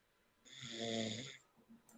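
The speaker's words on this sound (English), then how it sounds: "heard her snoring." A person snoring once over a phone or live-stream connection: a single drawn-out, buzzing snore of moderate loudness, followed by faint low noises.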